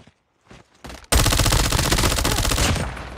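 FFAR1 rifle fired in a battle royale video game, with a few scattered shots followed by a loud, continuous rapid-fire automatic burst lasting about two seconds, close and dominant.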